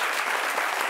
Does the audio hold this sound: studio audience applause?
yes